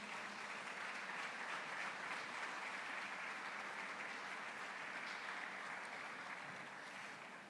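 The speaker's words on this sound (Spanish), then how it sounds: "¿Puede usted darle un aplauso a Él en esta mañana?" Church congregation applause during a Spanish-language sermon, a steady, even wash of many hands clapping, fairly distant and soft, with no speech.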